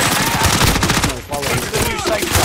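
Rapid automatic gunfire in the Warzone video game, loud, dense bursts of shots crackling close by, with a short pause midway before the firing resumes.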